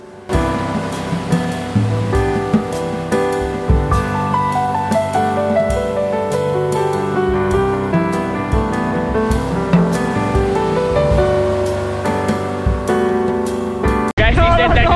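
Sea waves roll onto Chennai beach, where the water is black with sewage and garbage. The surf is a continuous loud wash mixed with voices and other tonal sounds, and the sound shifts abruptly near the end.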